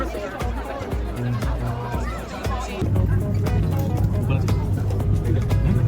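Dense crowd babble from people heading home after the New Year fireworks on Sydney Harbour Bridge, steady and close, with a low vehicle or bus rumble joining partway through.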